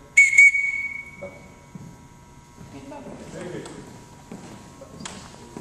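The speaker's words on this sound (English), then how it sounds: "when I blow the whistle" A coach's whistle blown on an archery range gives one sharp, shrill blast right at the start, followed by quieter voices and general range chatter.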